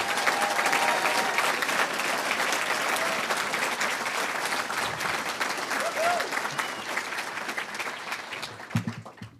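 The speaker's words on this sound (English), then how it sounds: "a round of applause, please, for the class of 2022" At a physician assistant program celebration, an audience applauds the class of 2022 with loud, sustained clapping and some cheering, tapering toward the end where a voice begins to speak.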